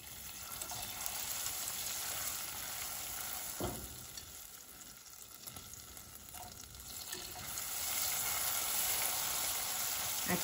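Sticks of butter stirred into sizzling caramel sauce in a pan, a steady crackling fry with scraping stirs that swell louder toward the end.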